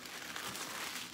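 Crinkling of a packaging sheet being folded around a candle tart melt, a brief steady papery rustle close by.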